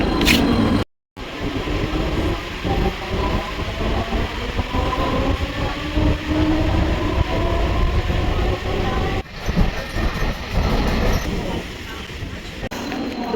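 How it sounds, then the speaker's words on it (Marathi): Train pulling into Uran railway station after the short run from Dronagiri, a steady loud rumble of wheels and carriages filling the whole stretch, with a brief dropout near the start and people talking over it. "द्रोणागिरीवरून 2 मिनिटातच ट्रेन उरणमध्ये पोहोचते आणि ट्रेन आता आलेली आहे."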